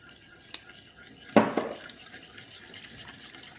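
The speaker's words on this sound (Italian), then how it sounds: "Mescoliamo per bene." Potato dough with 50 ml of olive oil stirred in a bowl, one sharp clink of a utensil against the bowl followed by quiet scraping and mixing, close and alone.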